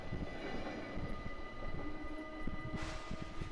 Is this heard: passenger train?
yes